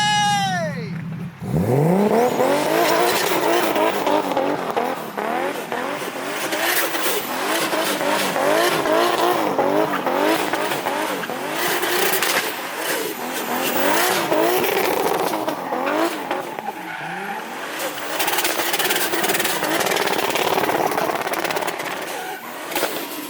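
A 700hp Lexus IS300 with a 1.5JZ engine does donuts. The engine revs hard and continuously, and the tires squeal loudly and without a break for over twenty seconds.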